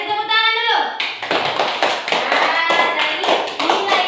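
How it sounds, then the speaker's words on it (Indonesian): Children in a classroom break into a burst of clapping applause, a dense patter of many hands that follows a brief voice and continues steadily at close range. "Kasih tepuk tangan dulu."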